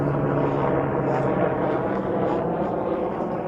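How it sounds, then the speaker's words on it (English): Low-flying helicopters pass overhead in a steady, loud rotor and engine drone that fills the whole stretch without a break. "Man, they got helicopters."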